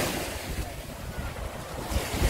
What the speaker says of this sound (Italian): Guardate che bel mare con il paesaggio.